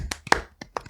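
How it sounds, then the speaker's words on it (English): A few slow, sparse claps, roughly four or five spaced hand claps in a polite golf-clap rhythm, close and fairly quiet with no talking. "golf clap."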